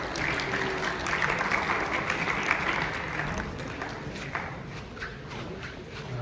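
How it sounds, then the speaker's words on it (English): An audience at a university student club orientation applauds steadily for several seconds, a soft, diffuse patter of many hands heard from a distance with a faint murmur mixed in. "So can I have a round of applause for these amazing people?"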